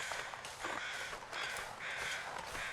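A crow caws repeatedly in the survival video game The Long Dark, several harsh, raspy calls in a row, fairly faint over a steady windy hiss.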